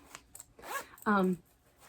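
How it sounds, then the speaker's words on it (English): Zipper on a cat-themed fabric pencil pouch pulled in two quick strokes, a short rasp followed by a longer, louder zip close to the ear, with someone talking just before. "There is a zipper closure."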